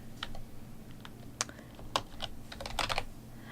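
Keys on a computer keyboard are tapped in short irregular bursts during a music mixing session, crisp close clicks over a low constant background hum, with no voices.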